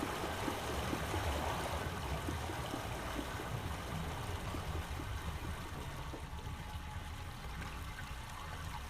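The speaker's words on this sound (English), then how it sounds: "Am I listening to the water go through here?" Water flowing through a channel in Myst, a steady close rushing and trickling stream that holds throughout and eases slightly in the second half.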